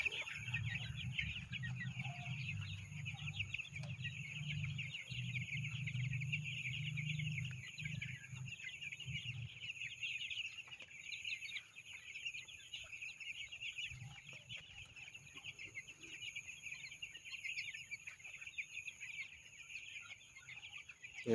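Sixteen-day-old white broiler chickens out on grass cluck and peep in a steady, dense chorus that runs unbroken throughout, with a low rumble early on and no one speaking.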